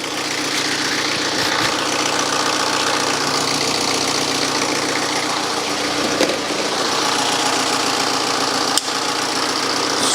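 A BMW car engine idles just after being started, a loud, close, steady mechanical rumble with a fine rhythmic ticking texture that holds evenly throughout, with no talking.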